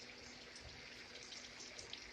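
Water from a can of chicken pours off into a sink in a home kitchen, a steady faint splashing trickle with a few drips near the end.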